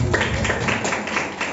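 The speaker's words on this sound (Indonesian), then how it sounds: "Tepuk tangan dulu buat mereka." A church congregation claps, a dense, steady burst of many hands in a loud room, continuing throughout the short stretch.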